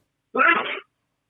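A single short sneeze, close and fairly loud, lasting about half a second, bursts out in a quiet indoor setting during a beer-tasting chat.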